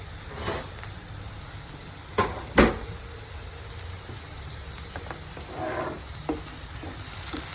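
Chillies and onion frying in oil in a pan, a steady close sizzle with a few sharp spatters and scrapes as they turn golden, no voices.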